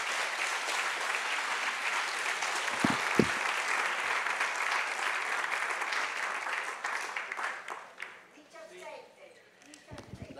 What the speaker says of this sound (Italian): Applauso per noi, non per me, ma per noi.